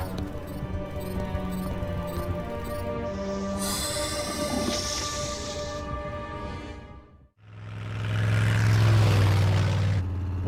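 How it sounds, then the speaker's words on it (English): A cartoon train rumbles past with rising and falling tones and wheel squeals, a brief dip to near silence, then a loud, deep drone takes over. "The train is past."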